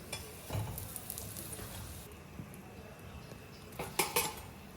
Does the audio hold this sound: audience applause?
no